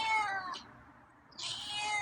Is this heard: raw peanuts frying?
no